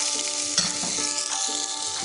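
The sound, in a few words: soaked chickpea paste added to pan and stirred, sizzling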